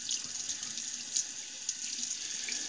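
Tap water runs steadily into a sink while a safety razor blade from a Star Super Six razor is rinsed under it, a close continuous hiss with a few small splashy peaks and no talking.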